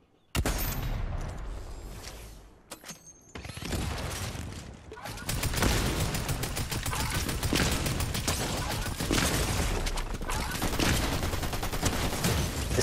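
Rapid bursts of gunfire in the video game Fortnite, loud and near, with a short lull before sustained automatic fire resumes and runs dense and continuous to the end.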